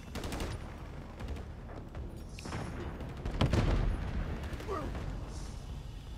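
Rapid video game gunfire rattles in dense overlapping bursts with heavier booms near the middle, loud and continuous in a military shooter match with a remote turret.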